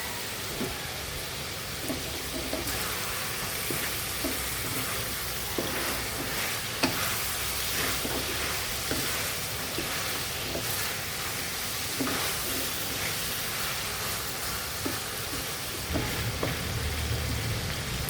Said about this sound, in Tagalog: Gigisa natin maayos guys.